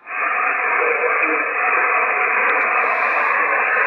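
A weak amateur radio station comes through an Icom IC-725 receiver, buried in a steady, loud band of hiss and static that runs without a break.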